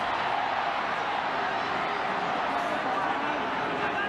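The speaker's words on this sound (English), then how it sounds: "Crowd calling that one forward." A rugby league stadium crowd at a Manly versus Parramatta match keeps up a broad, steady roar, calling out as one constant wash of distant voices with no break.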